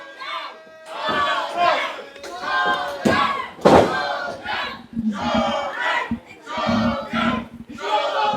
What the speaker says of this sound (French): Et ici au complexe, on acclame Shogun le magnifique.